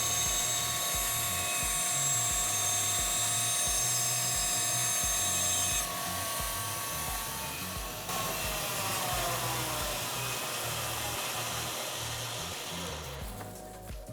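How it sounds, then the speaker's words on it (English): A bandsaw runs with a steady mechanical drone while its blade cuts through wood, a continuous loud whine with a shift in tone partway through as the cut changes, heard alone without talk. "Guide your wood towards this blade carefully while cutting"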